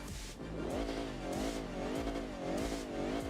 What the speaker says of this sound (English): we should be able to begin hearing like the turbo blow off sounds and more aggressive exhaust notes